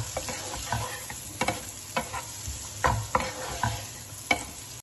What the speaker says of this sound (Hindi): तो मैं इसमें डालूंगी प्याज को, मैं मक्खन में थोड़ा घुमा फिरा लूंगी